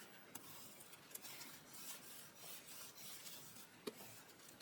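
A paper album pocket page burnished by hand, a faint, continuous soft rubbing and rasping with a few light taps, quiet and close.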